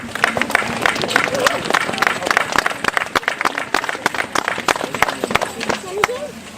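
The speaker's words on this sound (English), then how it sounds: "let's give a round of applause for all of these supporters" An outdoor crowd at a Christmas house lighting event applauds, with dense, steady clapping throughout and a few faint voices mixed in.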